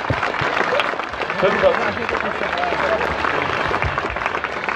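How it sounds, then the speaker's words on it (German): Spectators at an athletics throwing meeting in Thum, Germany clap in a light burst of applause, heard moderately close while an announcer keeps talking over it. "da könnt ihr euch mal klatschen"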